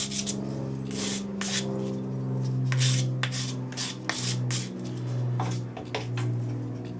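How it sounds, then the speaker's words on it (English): A sanding stick rubs back and forth over a folded metal cuff in short scratchy strokes, irregular in rhythm and close by, with a ringing metallic hum underneath. "use your sanding stick to tidy it up"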